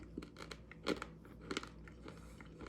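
Someone chews a piece of 1985 Topps football trading card gum, producing faint, close, irregular crunches and soft mouth clicks with a few sharper bites.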